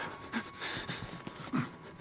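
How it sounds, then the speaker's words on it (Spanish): Heavy, frightened panting from a character in the Outlast horror video game, quick ragged breaths in irregular bursts, close and fairly quiet. "la respiración del tío está acojonado"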